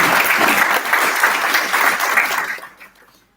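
An audience at a NASSCOM event claps together for Mr. Dinesh and Sri Devi, a loud, steady round of applause that fades out quickly after about two and a half seconds.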